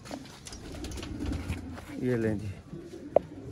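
A Kasuri breed pigeon gives a short, warbling coo close by, while someone talks over it.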